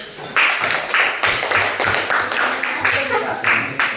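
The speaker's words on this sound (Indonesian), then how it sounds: "kasih aplaus dulu" A classroom group claps in a steady, fairly close round of applause lasting a few seconds, with bursts of rhythmic hand claps rising and falling.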